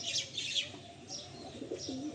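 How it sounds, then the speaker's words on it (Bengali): A pigeon coos in soft, low, rounded calls, with a few brighter chirps and a brief flutter of wings nearby, at moderate volume with no talking. "দারুণ পায়রা।"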